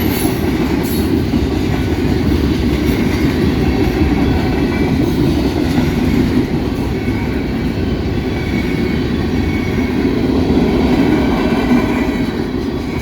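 A CSX mixed freight train with 3-bay coal hoppers rolls past close by at night, making a loud, continuous rumble with steady wheel clatter and faint squeal throughout.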